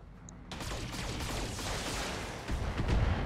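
Mech machine guns firing in the BattleTech video game, a dense, sustained rattle of gunfire that starts abruptly after a brief pause and stays loud throughout, with heavier booming impacts near the end.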